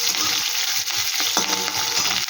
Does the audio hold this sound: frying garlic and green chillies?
yes